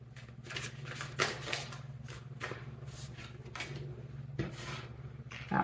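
Oracle cards are shuffled by hand at close range, a quiet run of soft riffling flutters and papery slaps repeating in uneven bursts over a low steady hum.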